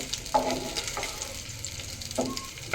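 Dum aloo being mixed in a pan, with a few brief, close stirring scrapes over a low background sizzle and no talking.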